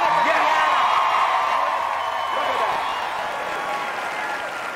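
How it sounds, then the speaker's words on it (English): A television talk-show studio audience applauds steadily with a few whoops mixed in, the clapping strong at first and tapering slightly toward the end. "What are they applauding?"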